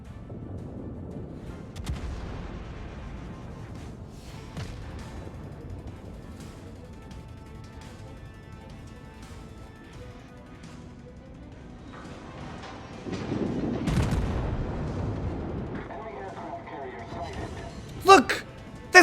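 Naval artillery shells fire in a World of Warships battle: scattered booms rise over a steady low rumble of gameplay, with a heavier salvo near the end and sharp cracks in the final second.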